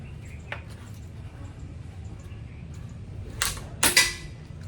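Spmc CO2 airgun fired at a toad target, charged with a PCP hand pump: two sharp, close snapping shots in quick succession near the end, over a steady low outdoor rumble.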